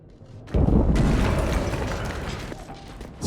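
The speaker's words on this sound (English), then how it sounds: "Sie bombardieren das Gebiet." Bombing explosions in the video game 11-11: Memories Retold hit with a heavy, booming rumble that swells loudly after a brief quiet start and rolls on, fading gradually before another surge.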